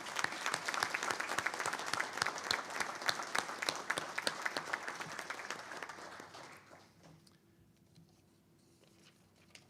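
At a school board meeting, attendees applaud the top students of the class of 2021 with a lively round of clapping that gradually fades and gives way to a quiet room with faint shuffling.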